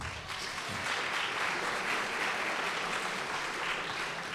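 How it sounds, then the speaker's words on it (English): Audience applause at a campus mayoral candidate forum, a steady, dense wash of clapping from a crowd that holds at an even level throughout without talk over it. "I was going to ask you to applaud, but I'm not going to do it now because you already have"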